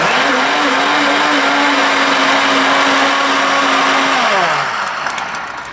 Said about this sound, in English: if you hear the ice is still hitting the sides of the jar, you just keep pulsing it